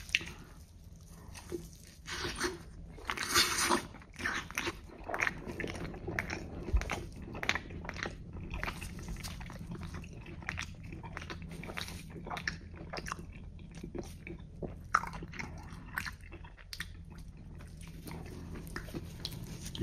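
Biting and chewing through the crust of a Domino's cheeseburger pizza, with close, moist mouth sounds and soft crunches repeating steadily for about twenty seconds, no talking over them.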